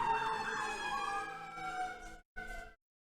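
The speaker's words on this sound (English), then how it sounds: "Do you hear all those sirens?" A distant siren wails and wavers in pitch, quiet but clear, then cuts off abruptly after a brief final burst.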